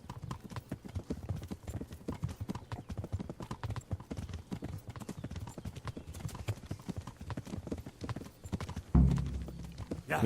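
Horse hooves clip-clop steadily in Kingdom Come: Deliverance, a fast continuous trot over ground that runs for about ten seconds. A heavy thump lands near the end.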